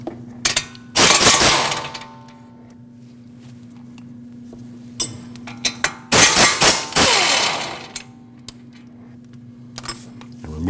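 Inverted E20 Torx caliper bracket bolts being removed on a 2014-2023 Jeep Cherokee front brake with a power tool, in two loud bursts of rattling impact hammering separated by quieter clicks and clanks over a steady background hum.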